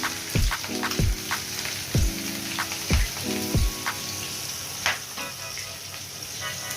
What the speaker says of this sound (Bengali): দিয়ে দেব কিছু পেঁয়াজ কুচি